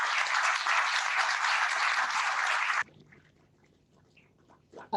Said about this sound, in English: give a big round of applause for Naomi for joining us.